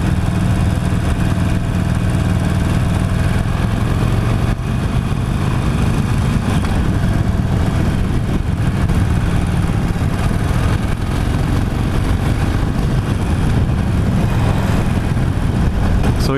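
A 2016 Harley-Davidson Forty-Eight motorcycle pulls away from a stop, its engine giving a loud, steady, deep rumble that carries on with wind rush during the ride.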